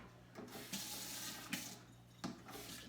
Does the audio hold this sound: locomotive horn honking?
no